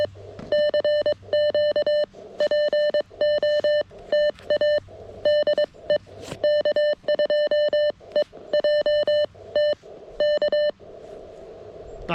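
Morse code CW tones come from a KX1 radio as loud, clean beeps in a rapid on-off keyed pattern of short and long elements, running continuously with no talking.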